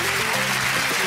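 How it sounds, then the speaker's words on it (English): Studio audience applause on the game show Blankety Blank, a dense, steady wash of clapping heard close and alone for about a second. "Give him a round of applause."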